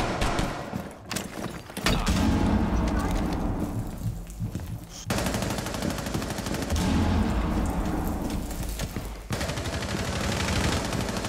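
Rapid automatic gunfire in Rainbow Six Siege, with dense, loud bursts of shots running almost continuously and broken only by brief pauses between volleys.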